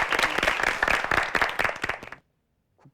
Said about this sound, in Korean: 박수로 함께 하겠습니다